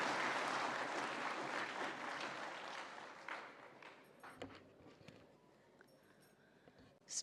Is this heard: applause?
yes